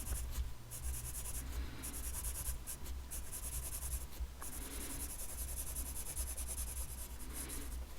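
Pen or marker lightly colouring in a simple cartoon drawing on paper, a faint continuous scratchy rubbing with small rhythmic strokes under a steady background hum.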